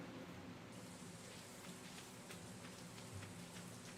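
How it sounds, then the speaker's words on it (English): Steady rain falls in the video game Stardew Valley, a soft, even hiss of drops with faint scattered patters, continuous and fairly quiet throughout with no voices. "At least it's raining again."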